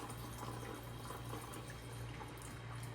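Water runs steadily and softly as cracked wheat is rinsed for tabbouleh, a continuous gentle rush and trickle with no voices.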